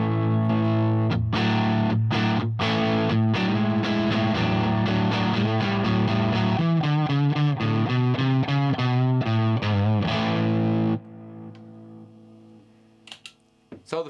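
Electric guitar driven through a DOD 250 overdrive preamp into a Fender amp, playing loud, distorted chords and rhythmic riffs for about eleven seconds before cutting to a quieter tail with faint string noise.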